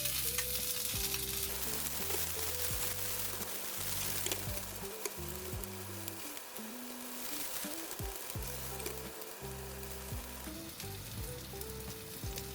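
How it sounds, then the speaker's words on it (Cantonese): Shallots and onions frying in a wok for a black bean chicken pot, a steady close sizzle with stirring scrapes throughout, no voices. "而我哋可以將啲乾葱同埋啲洋葱擺埋落去煎香佢。"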